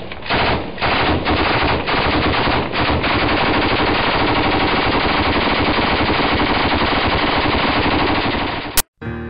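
Sustained machine gun fire with tracer rounds, loud and dense, hammering continuously for nearly the whole stretch with only brief pauses before ending abruptly.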